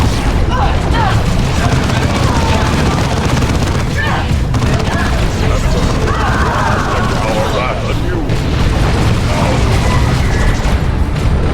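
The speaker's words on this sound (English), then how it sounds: "Tactical squad, return fire." Tactical squad gunfire in Dawn of War 2 battle, a loud continuous din of rapid shots and booms packed together with no break, busy battlefield noise mixed in.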